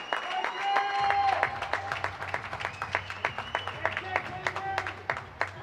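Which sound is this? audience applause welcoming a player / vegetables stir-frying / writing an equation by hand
audience applause welcoming a player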